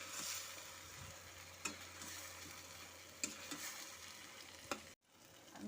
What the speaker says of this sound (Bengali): এখন সমস্ত মশলার সাথে চিকেনটাকে ভালো মতো করে কষিয়ে নেব।